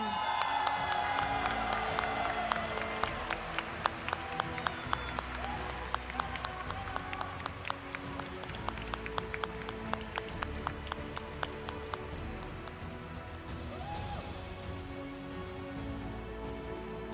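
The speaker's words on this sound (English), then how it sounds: "And a big round of applause now." Audience applause and cheering for the junior champion of the Pokémon Trading Card Game at the 2023 World Championships finals in Yokohama, Japan, a steady crowd wash with sharp claps and faint music underneath throughout.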